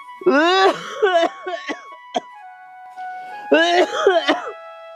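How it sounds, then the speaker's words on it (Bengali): A person gives a few harsh throat-clearing coughs at close range, in two short bursts separated by a brief quiet gap, with a faint steady tone running in the background. "কবে থেকে বলছি যে এত কাশছো"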